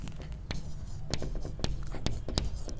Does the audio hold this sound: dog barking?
no